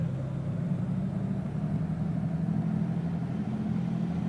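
Steady droning engine of a Beechcraft Baron 58 twin in X-Plane 11, held at 1700 RPM for a run-up, a constant low hum with no changes in pitch and no voices.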